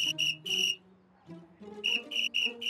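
A parrot imitating whistles: a quick run of three shrill, high whistled notes, a quiet pause with soft low rumble, then another run of four similar piercing notes, close and clear.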